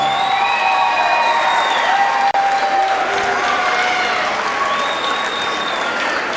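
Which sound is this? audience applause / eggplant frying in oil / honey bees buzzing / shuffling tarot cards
audience applause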